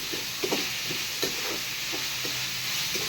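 Chopped onions sauté in a pan for egg gravy, giving a steady, close sizzle with a soft, repeated scrape of stirring over it and no voices.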